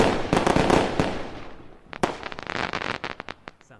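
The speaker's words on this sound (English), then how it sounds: "So I thought I'd give you guys some fireworks." Fourth of July fireworks burst and crackle in rapid volleys, sharp pops rising above a crackling wash, with a brief lull before another loud bang and a scattered string of smaller reports.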